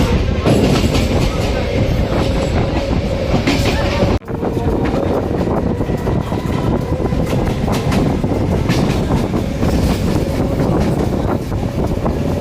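Passenger train at Naihati junction rolling along with a continuous loud broadband rumble and faint rail clatter, steady throughout apart from a brief dip, with wind buffeting the microphone and voices murmuring underneath.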